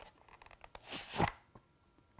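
A Springfield 1911 in .45 drawn close to the microphone from a Savoy Leather holster, giving a soft fabric-and-leather rustle that swells to a brief scrape, quiet with no metallic clicks, followed by a few faint small taps.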